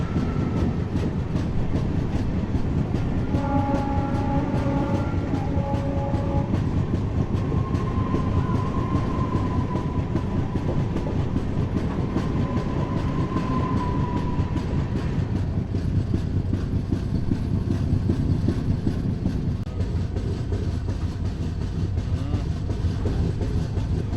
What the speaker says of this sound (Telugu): Chennai local train